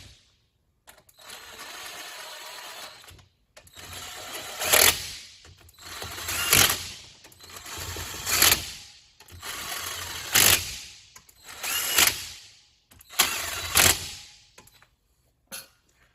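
An impact wrench tightens bolts on an Exciter 340 engine during a rebuild, firing about six loud, rattling bursts of roughly a second each, separated by short pauses and lighter clicks.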